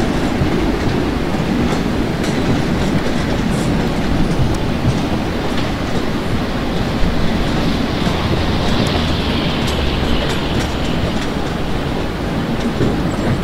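A WAG7 locomotive hauling the Duronto Express toward Bhusaval in a rail simulator rolls past loudly, a steady rumbling roar with faint rhythmic wheel clatter throughout.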